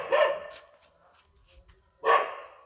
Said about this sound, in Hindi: ये डॉग है वो भौंक रहा है।